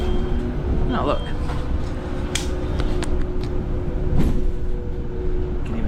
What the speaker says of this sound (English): You can even charge your phone or your camera on the bus.